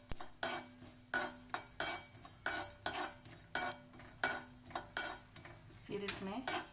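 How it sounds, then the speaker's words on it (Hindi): Metal spoon scraping and clinking against a pan while dabeli masala and spices, black pepper and sesame seeds are stirred and fried, in steady repeated strokes at close range. "एक एक करके डालते जाइए और फ्राई करते जाइए इसे।"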